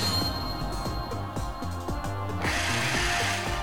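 Excadrill's Drill Run attack in Pokémon Conquest, a whirring mechanical drilling sound pulsing in rapid rhythmic bursts under game music, then brightening into a harsher hiss near the end.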